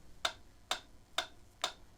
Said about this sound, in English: I'm going to start a metronome